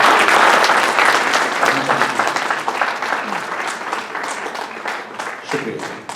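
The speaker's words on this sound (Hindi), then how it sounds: "भरपूर तालियों में इस्तकबाल कीजिए" Full, sustained audience applause welcoming a poet at an Urdu mushaira, dense clapping that gradually thins toward the end.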